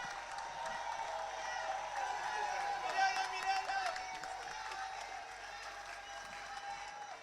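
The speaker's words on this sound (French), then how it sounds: "Alors nous allons l'accueillir avec les acclamations." A church congregation applauds and cheers during a live Sunday worship service, steady massed clapping with crowd voices underneath, fairly quiet and distant throughout.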